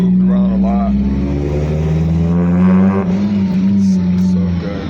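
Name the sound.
car engine sound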